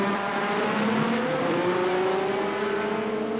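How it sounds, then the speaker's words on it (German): A 1982 Formula 1 race car at Hockenheim pulls into the pits, its engine a steady, loud, high-pitched drone whose tone gradually rises across the whole stretch, with no voices. "Hier fährt er an die Box."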